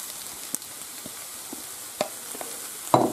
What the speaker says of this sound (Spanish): Ya lo hemos rehogado y ahora echamos el champiñón